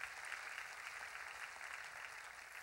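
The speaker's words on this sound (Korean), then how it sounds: "믿는 사람만 박수로 하나님께 영광을 돌리시기 바랍니다." A church congregation applauding during a Sunday worship service, a dense, steady wash of clapping from many hands, somewhat distant and even throughout.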